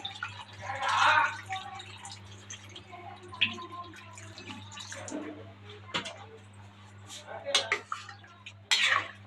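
About a quarter litre of water is poured into a pot for cooking mutton gongura, giving short splashy bursts over a steady low hum, with people talking nearby.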